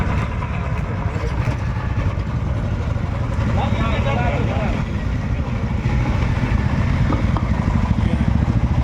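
Motorcycles in a bike rally, a dense, loud rumble of many idling and slowly moving engines that continues throughout, with voices and crowd noise mixed in.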